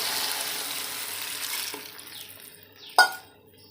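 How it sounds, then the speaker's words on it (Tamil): A little water poured into Andhra-style ridge gourd curry in a pan: a soft, fading pour and splash for a couple of seconds, ending with a sharp clink of utensil on the pan, no talking. "நம்ம வந்து கொஞ்சமாக தண்ணி விட்டுக்கலாம்"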